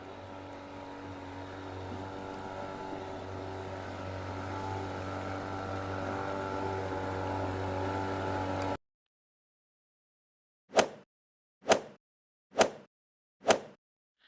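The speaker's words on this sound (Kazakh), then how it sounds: "Я, бұл қызғылт сары катер." A motorboat engine drones steadily and evenly for several seconds, then cuts to silence before four short, evenly spaced knocks or plops follow.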